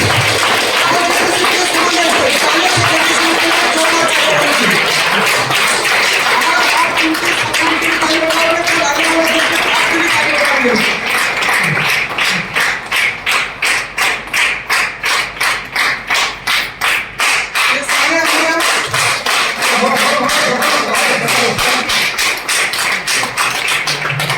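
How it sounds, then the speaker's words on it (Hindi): Loud, dense applause from an audience filling a hall at a leaders' sharing event, rapid claps sounding close and sustained, with voices talking over parts of it. "आप लोग का जोरदार तालियों के साथ"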